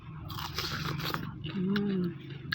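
Crunchy raw capsicum bitten during a fresh-vegetable mukbang, with a couple of close, crisp bites and crackles over steady background noise and a short voiced hum.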